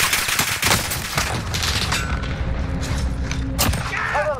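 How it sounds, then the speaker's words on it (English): Gunfire rings out in the battle-royale shooter Warzone, a dense, continuous crackle of shots with booms and mechanical clatter layered over a busy game soundscape, loud and sustained throughout. "I'm under fire."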